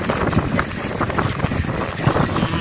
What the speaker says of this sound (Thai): ลมเทพี่น้อง ลมแห้งๆเนาะ